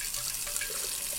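Water pours from a bottle out of a train window in a brief, close splashing gush that runs steadily for about a second.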